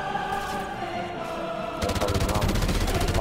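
Rapid automatic gunfire from the shooter Call of Duty: Ghosts starts partway through and keeps up a steady, evenly spaced stream of shots over a tonal background hum.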